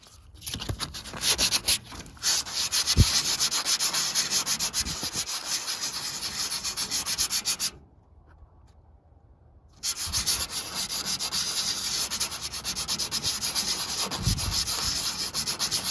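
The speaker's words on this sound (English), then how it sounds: "Comes out pretty good with the 80 grit though." 80-grit sandpaper scrubs by hand across the rough surface of a 66-year-old boat hull, a close, continuous rasping stroke sound that stops briefly for about two seconds before resuming steadily.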